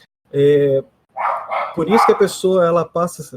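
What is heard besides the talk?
dogs barking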